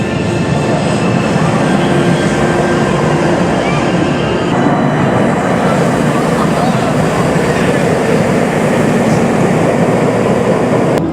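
A continuous loud rumbling roar of a roller coaster train on its track at Alton Towers, with faint metallic squeals and some talking underneath.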